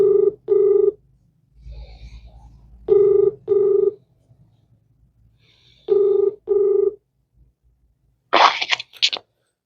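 A telephone rings while a call is being placed, loud double-pulse tones repeating three times with short gaps, then a brief burst of rustling noise at the end.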